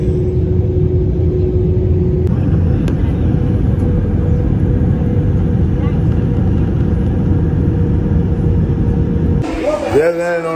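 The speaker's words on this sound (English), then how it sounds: "Just landed on a plane." Loud, constant low rumble of an airplane cabin just after landing, steady engine and air noise throughout, with a brief burst of voice near the end.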